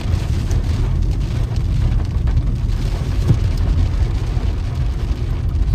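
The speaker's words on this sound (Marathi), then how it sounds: "मला आवाज येत असेल टप टप टप टप, केवढ्या जोरात पाऊस पडतोय." Heavy rain with large drops pounds steadily on a car in a forest area on a coastal road, a dense, even roar with no breaks throughout.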